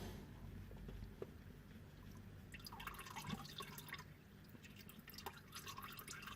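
Engine oil draining from a Nissan Micra K12 into a container set on cardboard, heard as soft, steady dripping and trickling liquid close by under a low background hum.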